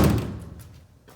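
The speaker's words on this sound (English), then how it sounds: "So when you close the door," Door of a 1935 Chevrolet coupe fitted with new weather stripping shuts with a single close, solid thunk that quickly fades, followed by faint handling noise.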